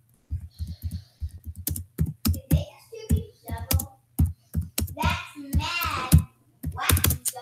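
Quick clattering keystrokes on a computer keyboard close to the mic, irregular runs of taps with brief pauses, and a voice speaking softly partway through.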